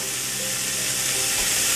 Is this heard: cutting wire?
no